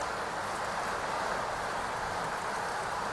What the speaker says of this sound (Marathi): जबरदस्त पावसाची एंट्री आमच्या घनसावंगी तालुक्यात झाली आहे